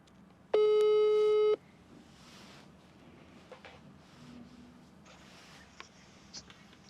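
Phone busy tone after a dropped call: a single loud, steady electronic beep lasting about a second, followed by faint room noise and small handling sounds.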